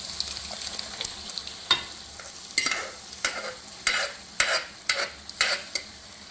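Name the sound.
cooked toor dal added and stirred into mango dal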